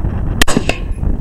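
A single sharp gunshot from a rifle or handgun fired at a target 100 yards away on an outdoor range, one loud crack with a brief echo and faint background noise.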